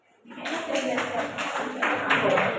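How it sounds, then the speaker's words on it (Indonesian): Clapping from students in a classroom for a teacher, a short burst of quick rhythmic hand claps starting abruptly and continuing, fairly close. "Tepuk tangan untuk Pak."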